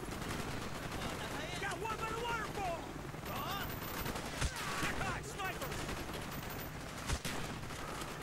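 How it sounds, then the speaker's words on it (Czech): Shotgun fire in the first-person shooter Call of Duty: Black Ops, with a few sharp blasts standing out over dense battle noise and background voices. "To je nějaká luxusní brokovnice."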